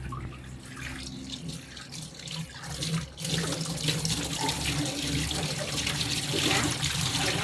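Tap water runs steadily into a sink while vegetables are washed, a close, continuous splashing rush that grows slightly louder and fuller partway through, with no voices.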